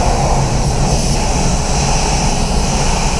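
A paint spray gun hisses steadily and loudly during spray painting of a Mazda MX5, a continuous broadband rush with no pauses and no talk.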